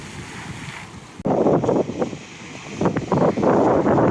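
Sea waves surge and crash against a pier in Odesa close by, with heavy wind buffeting the microphone, loud rushing bursts following a quieter opening.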